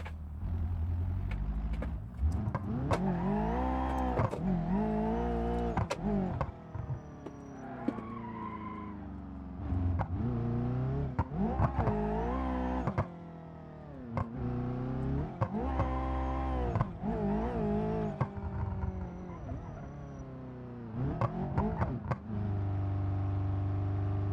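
Drag car engine in BeamNG.drive, revving hard in repeated surges with shifting pitch, loud and continuous, alongside skidding tire squeal, with no talk over it.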